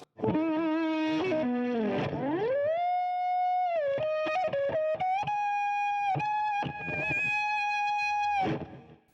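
Electric guitar lead played backwards, with swelling distorted notes that bloom in and cut off abruptly, sustained tones between bursts of rapid phrases.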